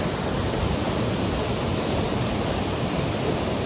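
Water crashes continuously at Galiveedu falls, a thick, even roar heard up close and filling the whole moment without any voices.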